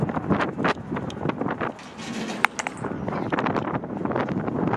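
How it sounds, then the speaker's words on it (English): Gusty wind buffets the microphone in uneven bursts at a New Year fireworks countdown by the London Eye, with a sharp snap partway through and a busy, rumbling background throughout. "it's so windy"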